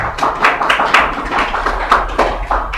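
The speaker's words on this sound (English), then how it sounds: "Well done, round of applause for everyone." A small group claps a round of applause after a leadership training session. The claps are close and irregular, with loose rhythmic bursts that overlap steadily for a few seconds and no voices.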